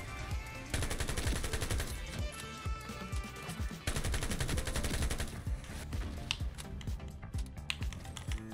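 Rapid automatic gunfire from Ironsight, including a FAMAS G2 assault rifle, rattles in dense continuous bursts throughout, with sharp close shots and layered game effects.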